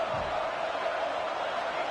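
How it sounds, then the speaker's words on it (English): A football stadium crowd roars during a fourth-down defensive stand in a Notre Dame versus Pitt game, a steady, dense wall of cheering that stays loud and unbroken throughout. "The crowd is roaring, trying to help this defense on fourth down."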